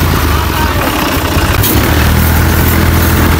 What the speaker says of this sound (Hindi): फाइनली गाइस ये ट्रैक्टर दोबारा फंस चुका है, अब इसको मैं आगे खींचता हूँ।